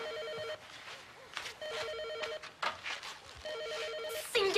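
An old-style telephone bell rings in repeated trilling bursts indoors, three clear rings separated by short gaps, with faint shuffling and a brief voice at the end.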